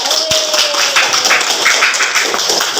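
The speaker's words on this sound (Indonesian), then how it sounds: "Tepuk tangan untuk perwakilan anak muda" Children in a classroom applaud a youth representative who came forward, a dense, steady round of hand clapping that runs the whole stretch without talk.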